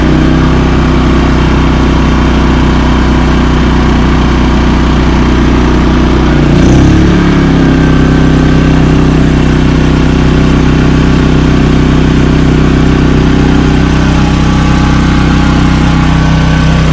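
A Champion 3400-watt dual fuel inverter generator runs with a steady, close engine hum, its revs rising briefly for a moment partway through before settling back to an even drone.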